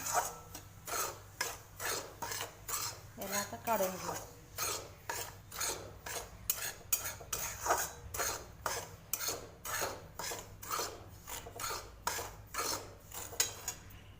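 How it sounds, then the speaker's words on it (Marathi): Repeated rhythmic scraping of a spatula across a pan as semolina roasts, dry granular rasping strokes in steady succession, close and fairly quiet, with no talking. "आता हा रवा चांगला लालसर भाजून घेणार आहे"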